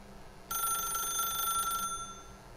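A telephone rings in The Stanley Parable video game: one clear, sustained electronic ring lasting a little over a second, loud against a quiet room tone.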